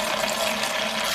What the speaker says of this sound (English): wash it right over here in the sink